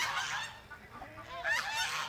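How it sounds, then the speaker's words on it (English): Backyard chickens squawk in agitation with harsh, honking calls that rise and fall in short bursts, moderately distant and fairly faint outdoors. "I don't know why you chickens are over here throwing a fit."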